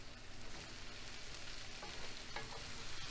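Mushrooms sizzle gently in a pan over a lowered flame, a soft, continuous frying crackle with occasional stirring scrapes, quiet and close.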